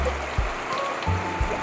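Water trickles steadily into a backyard crayfish aquarium, a soft, continuous flow heard close up with faint low thumps.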